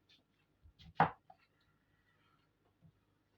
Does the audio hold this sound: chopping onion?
yes